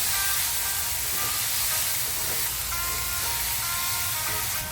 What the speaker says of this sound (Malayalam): ഇനി നന്നായി ഹൈ ഫ്ലെയിമിലിട്ട് തന്നെ വഴറ്റിയെടുത്ത്